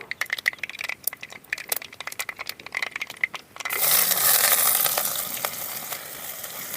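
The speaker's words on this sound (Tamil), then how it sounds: "அரிஞ்சு வச்ச பெரிய வெங்காயம் 2 போட்டுக்கலாம்." Chopped large onions tipped into hot ghee in a village kitchen pan: after clinks of mustard seeds popping, a loud steady sizzle erupts and continues close up, gradually settling.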